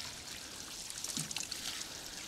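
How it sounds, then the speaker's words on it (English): A watering can pours water from above onto a tree fern in a garden, a steady close trickle and splash that swells briefly midway. "But tree ferns like a water from the top. Give it a good pour in."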